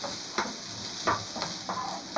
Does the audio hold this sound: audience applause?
no